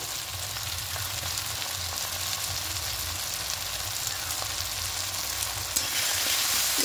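Green chillies frying lightly in a pan with salt, tomato and onion for a goat offal and stomach kosha, a steady close sizzle that runs throughout with faint scraping of stirring.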